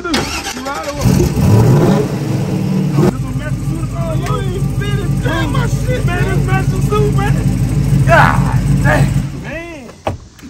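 A car engine is started, then revved hard several times, loud and close, with people talking over it before it cuts off near the end.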